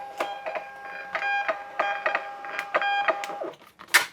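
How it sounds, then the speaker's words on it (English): A shipping label printer runs fast and close by, giving a quick series of rhythmic mechanical ticks and whirring feeds over about four seconds and ending with a sharper clack. "I'm going to print them as fast as the printer can go, and it goes pretty fast."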